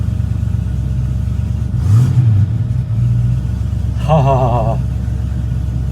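A TVR Chimaera at cold start in neutral, clutch down, its engine a steady low idle rumble that swells in two brief revs, with someone talking briefly over it.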